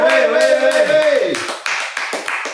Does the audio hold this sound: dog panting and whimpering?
no